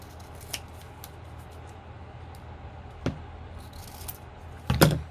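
Scissors snip through paper lace for a shabby chic journal, with a few sparse, crisp cuts and a louder closing snip near the end over a quiet room background.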